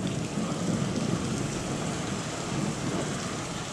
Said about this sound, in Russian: Гроза 30 марта с молнией.